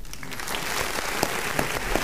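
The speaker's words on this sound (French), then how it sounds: "On est obligé tout simplement d'applaudir." Audience applause fills the clip, a dense, steady clapping from a crowd at close range with no talk.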